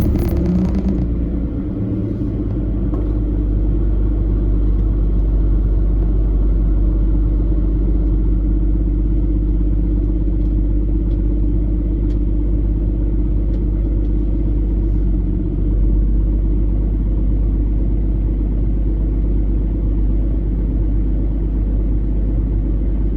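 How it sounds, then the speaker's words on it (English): A 1995 Volvo 960 engine starts and settles into a steady idle, a low continuous rumble held close and fairly loud, with no talking over it. "Now we're going to start up the car and we're going to see what fuel pressure looks like."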